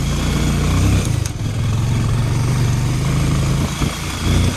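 A motorcycle ridden on slippery red-earth dirt road on worn, bald tyres, heading toward Diktel bazaar. Close, loud engine chugging holds steady with brief dips and surges as the throttle shifts, with no one talking.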